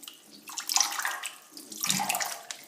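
Whey drains from cheese curds during Basque shepherds' cheesemaking, making a steady splashing trickle of liquid that swells in two surges. No one speaks.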